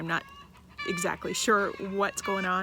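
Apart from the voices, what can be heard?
neighbor's chickens clucking loudly next door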